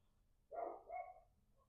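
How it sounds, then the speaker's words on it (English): Dog barking somewhere outside while someone sits in a car: two quick, muffled barks in a row, faint and fairly distant against a quiet, low hum. "even the dog barking"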